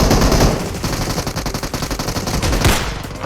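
Rapid automatic gunfire in the mobile battle royale game PUBG Mobile, a dense, loud, steady stream of shots lasting the whole stretch with no pauses and no talk.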